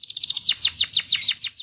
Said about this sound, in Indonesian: Nama roller sendiri didapatkan kenari ini karena kicauannya yang panjang dan ngerol.